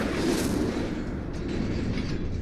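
A fire spell, Incendio, cast in Hogwarts Legacy: a loud, steady roaring burst of flame with rumbling low end, sustained throughout with no talking.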